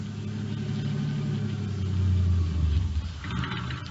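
A car engine idles in the video game Night Beat, a steady low rumble holding throughout with a slight swell midway and a brief dip near the end.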